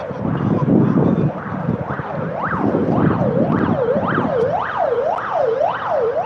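An ambulance siren wails in rising and falling sweeps on a winter street in Yakutsk, growing clearer as it passes over rumbling traffic noise.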